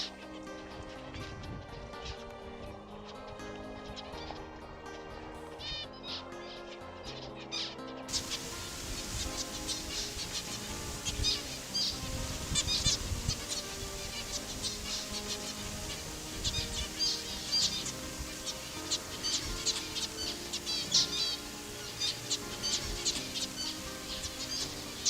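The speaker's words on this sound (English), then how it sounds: "This is a plumhead finch, and often the plumheads, zebras and double-barred finches are found at the same vicinity." Plum-headed, zebra and double-barred finches chirp and twitter in a busy, steady chorus, with occasional soft wing flutters, fairly close and continuous throughout.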